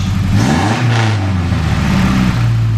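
A car engine with a pinging back cylinder when cold and a new throttle position sensor revs up and rises in pitch, then settles back to a steady hum, loud and close throughout.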